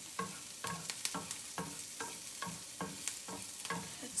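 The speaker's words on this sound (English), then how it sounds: "Give it a little stir." Onions in a frying pan over low heat sizzle steadily while a utensil scrapes through them in rhythmic strokes, about two per second, close and clear with no talking.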